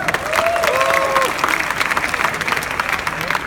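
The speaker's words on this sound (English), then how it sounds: "Round of applause." Audience round of applause after a startup pitch at the Get in the Ring 2017 competition, loud steady clapping from a large room with a voice briefly over the start.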